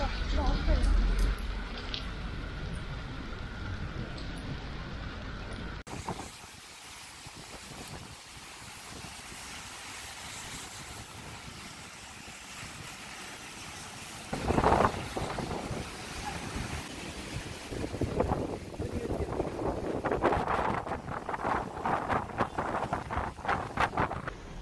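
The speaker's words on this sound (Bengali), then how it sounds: "বৃষ্টি না বাতাস, বাতাস আর বৃষ্টিও।" Strong wind and heavy rain during a sandstorm in Abu Dhabi roar against the microphone in rough gusts, with people speaking intermittently through the storm.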